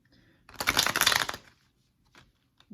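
A quick riffle of cards being shuffled, a dense papery burst lasting about a second, followed by a couple of faint taps.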